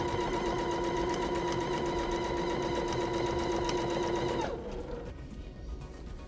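A sewing machine stitches fabric for a reversible door bow with a steady, fast mechanical whir and a constant tone, then slows and stops near the end, leaving faint room noise.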